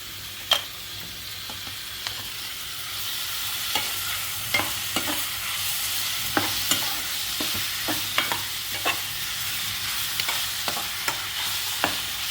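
Tomatoes sizzle steadily in a hot pan while a spoon stirs them, scraping and clinking in short irregular taps over the continuous frying hiss; no talking.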